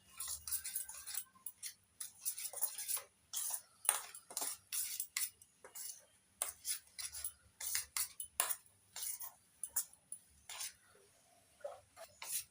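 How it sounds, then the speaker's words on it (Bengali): A spoon scrapes and clinks rhythmically against a bowl while semolina, sour yogurt and a little water are stirred together into a thick batter, a close, quick series of bright taps and scrapes. "সুজি আর টক দই ভালো করে মিশিয়ে নিচ্ছি।"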